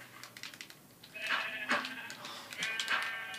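Sheep in Minecraft bleat several times in quick succession, moderately close, with light keyboard typing clicking underneath and a quiet background.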